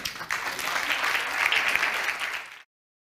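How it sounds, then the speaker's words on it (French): Audience at a health conference applauds a presentation, a dense, steady wash of many hands clapping for about two and a half seconds before cutting off. "On peut les applaudir."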